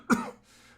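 A single short cough, close and fairly loud, with a brief fading tail and quiet background after it; no speech.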